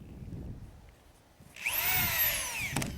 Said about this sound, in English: drive screws every 10 inches along each edge